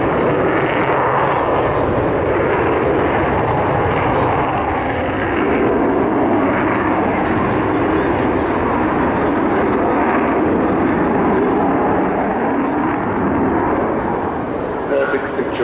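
A loud, continuous jet engine roar fills the air, a dense rumbling drone that holds steady as the Avro Vulcan bomber XH558 passes close overhead.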